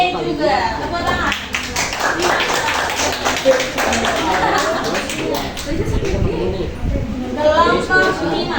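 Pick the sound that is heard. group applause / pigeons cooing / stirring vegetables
group applause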